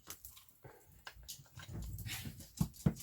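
A small dog whimpering and whining softly nearby, with short breathy whines and a couple of low thumps near the end, faint and without speech.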